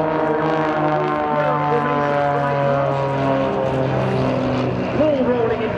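Display team aircraft fly a loop at the Sunderland Air Show, a loud droning engine note that rises and falls in pitch as they climb and turn, with a commentator talking over it.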